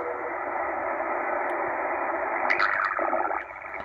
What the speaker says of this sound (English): radio teletype style signal